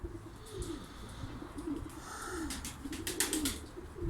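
Performance pigeons in their loft in Ankara give repeated soft, low coos, several birds overlapping at close range over a light background hiss.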